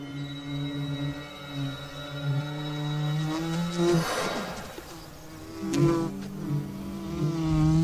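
A honeybee buzzes close to a hummingbird hawk-moth feeding on flower nectar, a steady, pitched hum that swells and shifts in tone as the insects approach and dart about.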